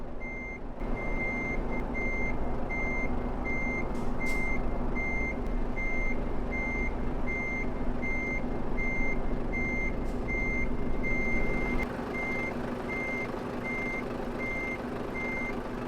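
Steady, evenly spaced reversing beeps repeat throughout over a low, rumbling 750hp Volvo truck engine in Euro Truck Simulator 2, with no one talking.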